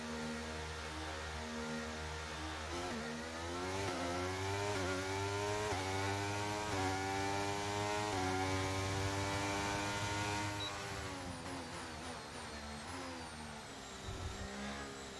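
Formula 1 racing car engine warming up in an F1 video game at Monza: a sustained, buzzing high-revving whine that climbs and falls through repeated rev sweeps, loud and continuous, fading slightly near the end.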